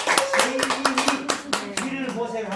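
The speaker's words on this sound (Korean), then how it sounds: "박수 한번 주세요." An audience at a civic talk on Incheon and peace claps together in steady applause, dense and fairly close, with a voice speaking over it.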